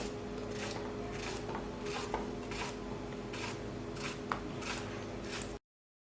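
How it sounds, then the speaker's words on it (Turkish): Repeated knife strokes chopping zucchini and potato by hand tap against a cutting board in a steady rhythm, close and fairly quiet, over a low room hum. "Hemen kabağı da aynı şekilde patatesi de ben şöyle elimle doğrasam daha rahat doğrayacağım."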